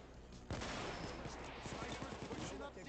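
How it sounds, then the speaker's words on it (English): Shotgun fire in the PayDay 2 video game during a bank heist: a sharp loud blast followed by a steady stream of repeated shots and impacts, dense and continuous, with no talk over it. "I'm sniping snipers with a shotgun."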